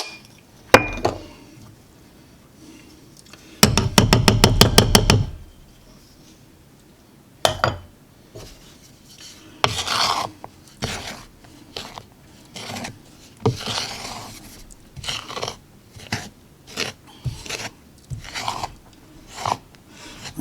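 Thick banana nut chocolate chip muffin batter is stirred into dry ingredients in a bowl, giving a rapid burst of clinking early on, then uneven scraping and clacking strokes repeating close by with no talk.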